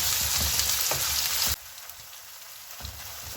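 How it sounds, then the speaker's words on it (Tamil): Tomatoes with salt sizzle and fry loudly in a pan for prawn curry, a steady hiss that drops in level partway through. "தக்காளி பழத்தில் பச்சை வாசம் போகிற வரைக்கும் வதக்கி எடுத்துக்கொள்வோம்."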